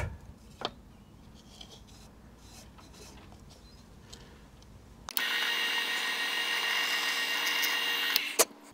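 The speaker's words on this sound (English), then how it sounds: "putting very little pressure on the drill bit, letting it go through" A small drill with a 2mm bit bores a hole. Soft handling clicks come first, then a loud, steady, high-pitched whirring starts suddenly and runs for about three seconds before stopping sharply.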